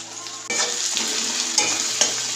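Onion pieces sizzle steadily in hot oil with a little salt while being stirred, producing a continuous close frying hiss punctuated by a few scraping clinks of the spoon against the pan.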